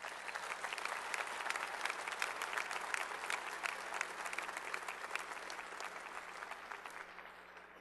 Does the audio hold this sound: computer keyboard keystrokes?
no